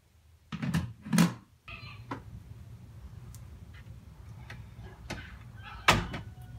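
A door closes with a couple of solid thumps near the start, followed by quieter clicks and a final sharp knock later.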